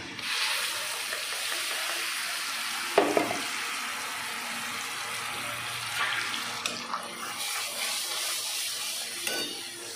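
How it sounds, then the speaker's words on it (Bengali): Tomato paste hitting a hot pan of paneer curry base, a continuous wet sizzle and spluttering with a few sharp clinks of a utensil, fairly close and steady throughout. "এবার দিয়ে দেবো এই টমেটো পেস্টটা"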